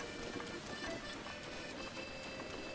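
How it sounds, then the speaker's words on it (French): Rain falling in the video game The Legend of Zelda: Breath of the Wild, a dense, steady patter of drops on surfaces, continuous and moderately soft throughout. "Il pleut, c'est pour ça."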